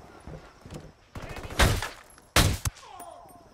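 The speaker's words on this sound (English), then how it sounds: "I'm shooting through the wall." Gunshots from the video game Ghost Recon Wildlands ring out as a rapid burst of loud cracks and then a shorter second burst, over faint background game sounds and a few brief vocal bits.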